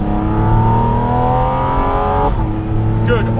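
A Porsche GT4 RS engine revs loud and close, its steady harmonic drone climbing smoothly in pitch before dropping off sharply near the end, with a short burst of noise at the tail.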